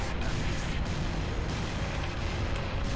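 Ordnance bombardment in the Halo Reach campaign video game, a dense, roaring wall of overlapping explosions and rumbling blasts, loud and sustained throughout with no talking.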